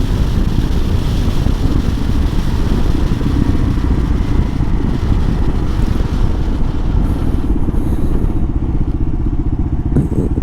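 A 2005 Kawasaki KLR 650 being ridden, its single-cylinder engine thrumming loud and low with constant wind rush, steady throughout, with the engine note easing and a brief clatter near the end.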